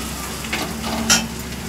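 Fish roe fries in a pan with garlic paste, cumin, turmeric and red chili powder, giving a brief, steady, moderately loud sizzle with a light stirring scrape.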